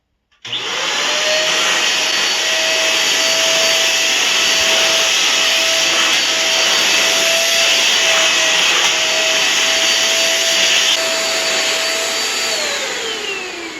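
Xiaomi Deerma DX700 corded vacuum cleaner sucking up hemp seeds spilled on a floor: the motor starts abruptly and holds a loud, steady whine with a sustained tone, shifting pitch near the end.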